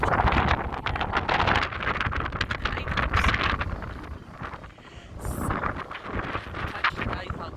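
Strong, gusty February wind roars against the microphone by a lighthouse on the rocky coast at Halifax, easing briefly midway before surging back with harsh, blustery rushes.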